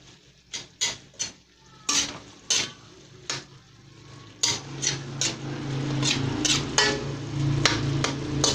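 Sotanghon noodles and cabbage stirred in a pan, with a series of distinct metallic utensil clanks against the pan, spaced at first and then steadier over a growing sizzle.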